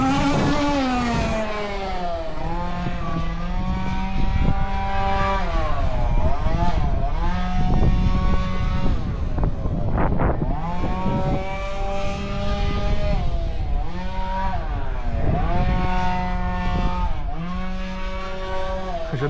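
A tuned car races along a hill road that dips and climbs, its engine loud and close as it revs through repeated upshifts and throttle swells, rising and falling in pitch with brief lifts between gears.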